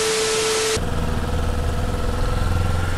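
A Kawasaki Ninja 400 motorcycle engine runs steadily while the rider circles around, a loud, even mid-pitched drone with a constant hum, close and continuous after a brief tone at the start.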